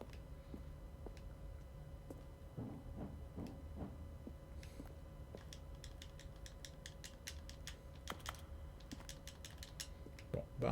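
Faint, scattered keyboard clicks from The Stanley Parable Ultra Deluxe, coming in short irregular bursts over a steady low hum, with a quicker run of taps toward the end.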